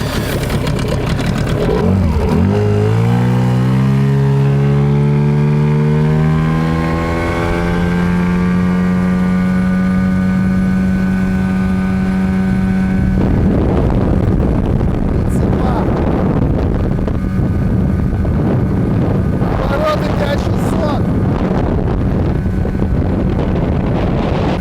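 A Tohatsu 9.8 outboard boat motor being started and revved up, its pitch climbing steadily to a loud, sustained drone, then running under heavy wind noise as the boat moves out on the water.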